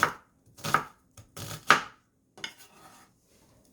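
A knife finely chopping a quarter onion on a board, a few crisp, close thuds in quick bursts with short pauses between them, and no talk.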